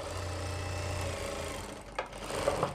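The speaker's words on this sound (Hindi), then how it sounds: "इस तरीके से सिलाई घुमाते हुए ऊपर तक लेके आएंगे" A sewing machine stitches a baby pant with a steady, fast mechanical whir, close and moderately quiet, slowing and stopping near the end with a few faint clicks.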